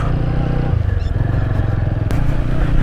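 A motorcycle not built for off-roading rides across rough ground near a lake, its engine a loud, steady close rumble with clattering throughout.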